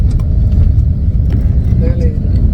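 A vehicle rolls slowly with its engine running in a low, steady rumble nearby, with brief faint sounds on top.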